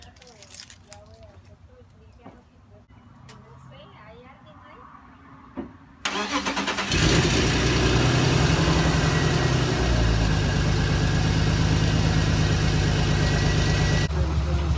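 Keys jangle amid talk before a BMW E36 cranks and fires up on jack stands, then settles into a loud, steady idle close by.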